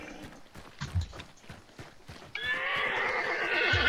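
A horse whinnies in the video game Hunt: Showdown amid clopping hooves and scattered thumps, then a loud, steady rushing noise takes over for the rest.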